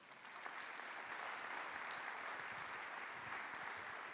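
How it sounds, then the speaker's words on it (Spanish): Steady applause from a church congregation during a service, a dense, even wash of clapping that holds at a constant level from start to finish. "¿Le puede dar un aplauso a Dios?"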